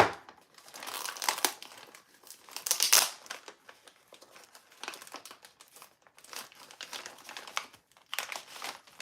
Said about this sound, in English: Trying to open this without cutting anything that I shouldn't.